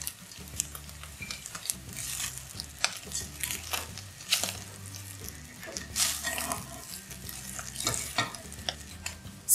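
Scraping and stirring cassava flour in a pan for egg farofa, with soft irregular scuffs and light crackling, steady throughout with a low hum of music underneath.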